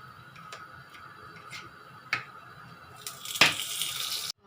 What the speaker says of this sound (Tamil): நாம் இப்போ தண்ணி ஊற்றிக்குவோம்.